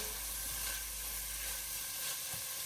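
Lamb curry sautéing and simmering in a pan hisses faintly and steadily, like a quiet steamy sizzle with no clear breaks, and no voices are heard.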